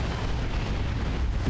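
A bomb explosion in the strategy video game Warhammer 40K: Dawn of War 2 Retribution gives a steady, dense rumbling blast that fills the moment without a break or any voices.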